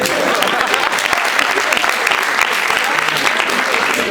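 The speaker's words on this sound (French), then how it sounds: "Est-ce que je pourrais avoir un tonnerre d'applaudissements pour l'orga LBDA" Loud, sustained applause from an audience at a student comedy show, dense clapping that holds steady throughout without a break.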